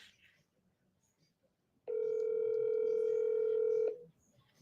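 A single ringback tone sounds on an outgoing phone call, one steady electronic burst of about two seconds, loud and close, between quiet stretches.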